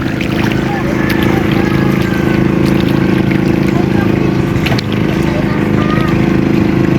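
A steady, loud low engine drone runs throughout, the constant rumble of a small island-hopping motor boat idling or cruising, with faint background voices.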